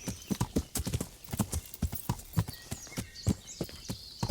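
Horse hooves clip-clop steadily at a walking pace while riding in the video game Kingdom Come: Deliverance, each footfall sharp and close, with a brief whinny and no talk.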